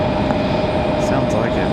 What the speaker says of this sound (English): Is that the B-175 all the way over there making that noise?